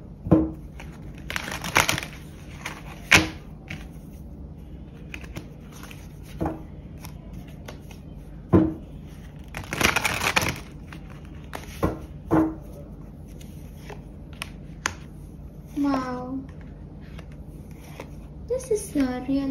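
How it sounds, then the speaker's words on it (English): Tarot cards being shuffled and drawn, giving soft papery riffles and flicks in scattered bursts between stretches of a person talking. "Let me pick out a few more cards for you guys."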